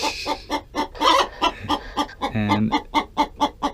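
Hens in a coop cluck loudly while laying eggs, a steady run of close, rhythmic clucks with one brief spoken word at the start.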